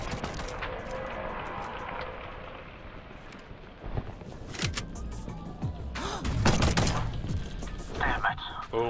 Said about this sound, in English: Why do you think I did a gunshot?